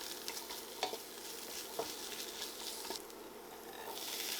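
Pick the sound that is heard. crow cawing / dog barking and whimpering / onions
onions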